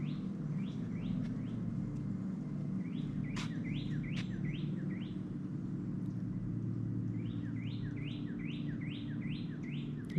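Repeated quick chirping calls from a bird in a cypress swamp at Kirby Storter Roadside Park in Big Cypress National Preserve, arriving in short bursts over a steady low outdoor hum, moderately close.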